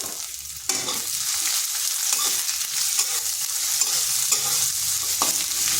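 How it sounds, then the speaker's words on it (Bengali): Grated ginger and thinly sliced garlic fry lightly in a pan with a dense, even sizzle, broken by a few abrupt clatters of a spatula against the pan; no one speaks. "আদা রসুনটা হালকা একটু ভেজে নিচ্ছি"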